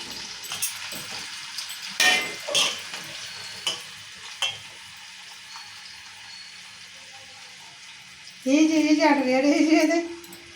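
Slices of bitter gourd, about a kilo, frying in a little oil in a pan, a continuous close sizzle broken by scraping stirs and clinks, with a person talking over it near the end.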